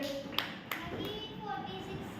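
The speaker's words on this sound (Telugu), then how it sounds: "ఒకసారి గట్టి చప్పట్లు కొట్టండి, గట్టి చప్పట్లు కొట్టాలి." Children clap in a classroom during a school prize-giving for a third-class English exam: a few sharp, scattered hand claps over a steady background murmur.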